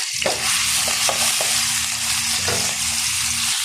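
Lentil dal cooking with bottle gourd in a hot pan, a continuous loud sizzle broken by several scraping stirring strokes of a spoon, close up with no voices.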